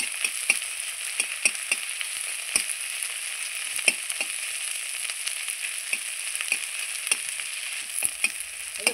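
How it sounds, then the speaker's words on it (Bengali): Onion fries lightly in hot oil, giving a bright steady crackling sizzle up close, punctuated by frequent small pops and spatters throughout, with no speech. "তেলটার মধ্যে পেঁয়াজটা আমি হালকা এখানে ভেজে নেব।"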